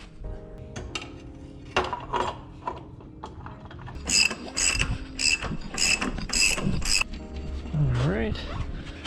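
Wheel going back onto a Mega Moto 80 swing arm bike, with ratcheting clicks, metallic rattles and clanks of parts being fitted in bursts up close, under intermittent talk.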